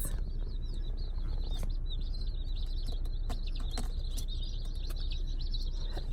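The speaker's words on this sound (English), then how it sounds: "they are already chirping away and moving around" Newly arrived baby chicks cheep steadily inside a shipping box, a dense chorus of thin, high peeps overlapping continuously over low rustling as they shuffle around, close by and at an even level throughout.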